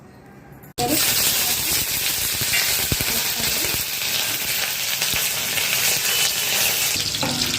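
Oil heated for tempering dry red chillies, mustard seeds and curry leaves for a peanut chutney bursts into a loud, steady sizzle after a short quiet start, with crackling pops throughout.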